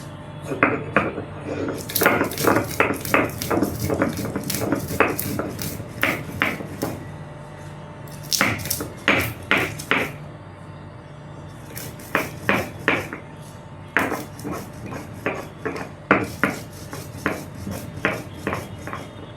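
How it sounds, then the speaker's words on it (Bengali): Roasted spices are ground into powder, with repeated close, gritty pounding and scraping strokes in uneven bursts and a few brief pauses, carrying on steadily throughout. "খুব ভালো করে আমি গুঁড়ো করে নেব।"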